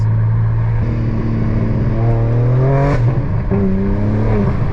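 A BMW G82 M4 engine burbles loudly and steadily up close, its deep rumble shifting in pitch as the revs rise and fall, with no talk over it.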